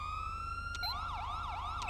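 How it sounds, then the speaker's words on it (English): A steady police siren tone in Grand Theft Auto V abruptly switches into a rapid rising-and-falling wail that repeats several times, with a low engine rumble underneath. "When I press 1 on my keyboard, obviously it plays the siren."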